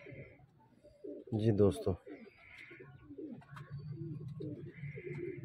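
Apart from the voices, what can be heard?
golden pigeon cooing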